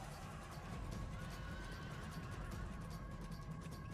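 Horses neigh and whinny amid a Rome Total Realism game battle, faint and somewhat distant over a steady background din.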